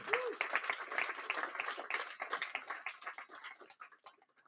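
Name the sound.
audience applause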